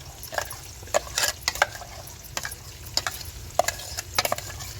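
Ground spice paste goes into oil in a frying pan for a mint green chicken dish, sizzling low and steady while a utensil scrapes and clacks against the pan in quick, irregular stirring strokes nearby.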